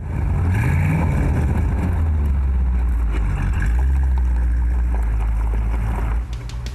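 A 1950s first-generation Ford Thunderbird with its 4.8 liter engine, rumbling loud and close with a deep, steady low tone that swells and eases as if revving, with no talking over it.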